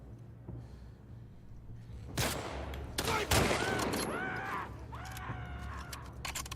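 Gunfire in The Last of Us Part II on Survivor difficulty: a few sharp bursts of shots cut through a steady low game hum, followed by fainter ringing and echoing tones.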